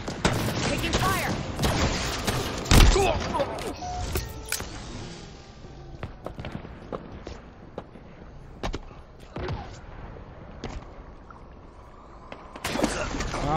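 Gunfire in the War of the Spartans game cracks out in scattered sharp shots and volleys, loud early then thinning out, with occasional speech over the combat.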